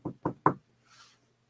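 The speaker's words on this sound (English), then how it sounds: "I don't know what that knocking was." Three sharp knocks in quick, even succession, close and clear, on a wall or door indoors, followed by a faint soft rustle and then quiet.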